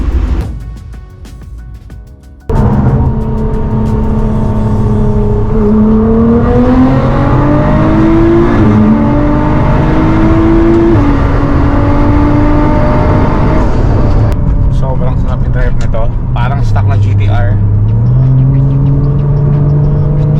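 Nissan R35 GT-R running at full boost: after a brief quieter start, the engine cuts in loud and close with a sustained rising rev and turbo spool, then eases and climbs again.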